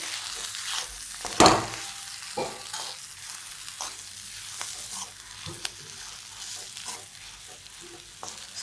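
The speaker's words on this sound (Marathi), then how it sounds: "हे चांगलं परतून घ्यायचं" Potato filling with coriander and salt sautéed in a pan, a soft steady sizzle with occasional spatula scrapes and one sharp clatter near the start, close and moderate in level.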